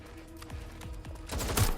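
Gunfire in Watch Dogs: Legion crackles in quick bursts, with a few separate shots followed by a denser, louder volley near the end.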